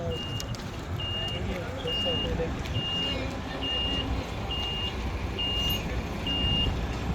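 A vehicle backing into a parking spot on a defensive driving training ground, its reversing alarm giving about eight evenly spaced high beeps over a low engine rumble, with voices talking underneath.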